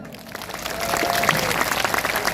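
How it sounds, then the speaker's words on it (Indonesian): Audience applause at a sholawat (Islamic devotional singing) gathering in Cikarang Utara, a steady crowd clapping that swells slightly and carries on throughout with no talk over it. "Tepuk tangan."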